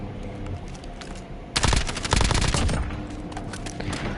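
Automatic weapon fire in Call of Duty: Warzone, a dense, loud burst of rapid shots erupting suddenly over ambient game noise and then trailing off into scattered cracks.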